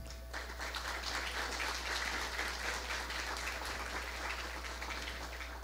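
Audience at a workplace safety week talk clapping together, a steady, moderately distant wash of applause that holds evenly for several seconds over a low hum.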